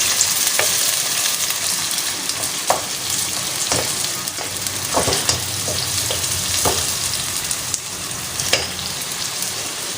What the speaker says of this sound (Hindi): ऑयल गर्म हो गया है, इसमें प्याज मैंने डाल दी।